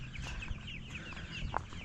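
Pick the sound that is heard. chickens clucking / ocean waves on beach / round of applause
chickens clucking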